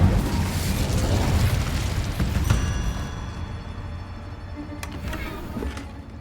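Incendio fire spell cast in the video game Hogwarts Legacy: a loud fiery whooshing burst that rumbles and crackles, then tails off into a quieter hissing with faint chiming tones.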